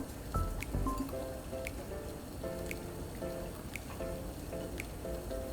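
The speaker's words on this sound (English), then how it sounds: "we're gonna add the onions that were drained," Drained red onions go into a Jamaican potato salad, heard as soft wet squishing and mixing with light clinks of a utensil against the bowl, quiet and close.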